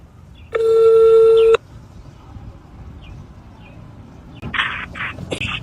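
An outgoing phone call gives one loud, steady ringback tone lasting about a second, followed by quieter background and a few short chirping bird-like sounds near the end.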